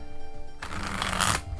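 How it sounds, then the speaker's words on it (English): Celtic Tarot cards are shuffled in one burst of rapid, crisp riffling that runs for under a second, close and fairly loud, with quiet room tone on either side. "Let's do a little shuffle now so you can see how it shuffles"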